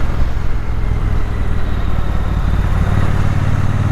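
A Triumph Bonneville T120 motorcycle cruises in third gear at about 40 mph and 3,000 rpm. The engine drones steadily and closely, with a low rumble and wind noise throughout, and no talking.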